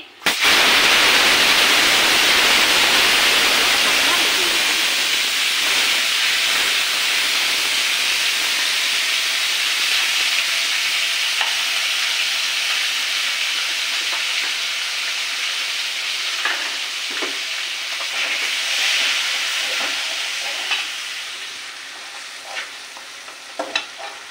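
Potatoes hit very hot oil with bay leaves in the pan, starting in a loud, dense hiss that gradually eases into a softer, steady sizzle with scattered pops and scrapes, no voices.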